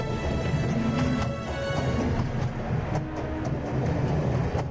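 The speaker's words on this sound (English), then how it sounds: "You stuck a kid on a runaway train?" A runaway train in a video game rumbles and clatters loudly and continuously, with sharp metallic clicks and bangs scattered through the roar and no talking.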